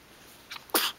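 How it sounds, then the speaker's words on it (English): A single sharp sneeze bursts out close to the mic, preceded by a faint intake of breath, in an otherwise quiet room. "you got the sneeze and the hiccups"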